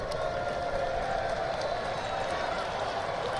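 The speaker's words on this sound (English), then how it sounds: "a derisive round of applause by the Rays faithful" Rays fans at a baseball game in Tampa give a derisive round of applause, a steady distant wash of clapping and crowd noise with faint cheers, heard under a broadcast voice.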